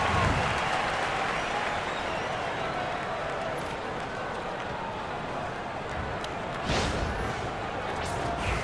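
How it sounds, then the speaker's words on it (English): A large arena crowd in the basketball video game NBA 2K25 applauds steadily, a dense wash of clapping and cheering that holds throughout, with a few brief louder swells. "Give them a round of applause."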